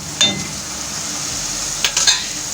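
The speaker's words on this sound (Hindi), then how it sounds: "चिकन के कीमे को हम हल्की आंच पे 5 मिनट के लिए भून लेंगे।" Chicken mince frying over a low flame, a steady soft sizzle broken by a few brief stirring scrapes near the start and again near the end, with no talking.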